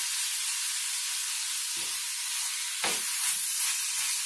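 Meat and vegetables for a baked meat pie sizzle steadily in a pan, with a few soft scraping stirs breaking through the continuous hiss of frying.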